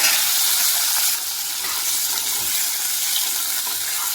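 Curry leaves, shallots, garlic, green chillies and tomato frying in a pan, a loud, steady hiss of sizzling oil that flares at the start and keeps going evenly.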